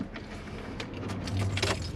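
A set of keys jangles faintly in short metallic shakes and clinks, close by, over a quiet outdoor background with a low vehicle hum.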